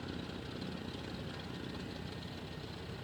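Steady, continuous drone of a Cessna 152 piston engine idling in Microsoft Flight Simulator 2020, a dense buzzing hum holding an even level for the whole stretch with no talk over it.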